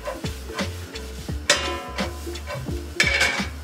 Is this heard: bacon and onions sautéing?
yes